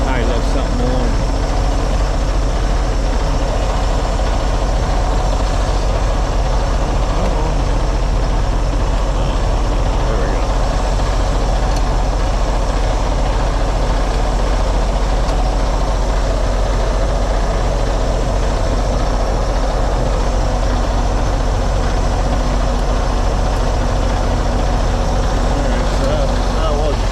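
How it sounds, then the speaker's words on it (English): A truck idles after a no-start repair on a mobile service call in Carneys Point, NJ, its low engine rumble steady and close throughout while people talk over it. "You gotta leave your truck running the rest of the day, okay?"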